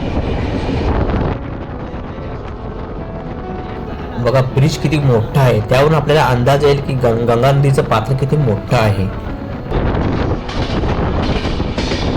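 A train rumbles steadily across a river bridge with rhythmic clattering wheels and metallic creaks, loud and close, with voices audible before and after the passage.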